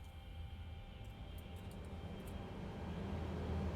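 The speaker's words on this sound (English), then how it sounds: "I hear some engine power coming from somewhere." Boeing 787-10 engines spooling up during preflight at Seattle in Microsoft Flight Simulator, a steady low rumble with a faint high whine, continuous and fairly quiet throughout.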